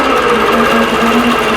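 A quilting machine starts stitching a spiderweb pantograph: a loud, steady mechanical hum with a fast, even stitching rhythm that runs without pause, close and alone.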